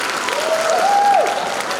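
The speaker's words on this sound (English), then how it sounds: "So please give yourselves a big round of applause." Steady applause from parents and audience at an elementary school band and orchestra spring concert, with a single tonal whoop or whistle rising through the clapping.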